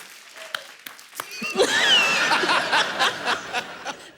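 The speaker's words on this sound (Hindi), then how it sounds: "इसके लिए पहले तालियां होनी चाहिए" A television studio audience breaks into applause mixed with laughter and snickering, a dense wash of clapping that swells and then continues at steady strength.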